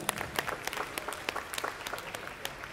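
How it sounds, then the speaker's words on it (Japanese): Applause from a jazz cruise audience for a vocalist forms a crowd of rapid, crisp claps, fairly faint and steady throughout the short stretch. "大きな拍手"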